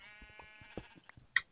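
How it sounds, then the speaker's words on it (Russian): Sheep in the video game Minecraft give a quiet, drawn-out bleat followed by a short, sharper bleat, with faint game sounds in the background. "Барашки."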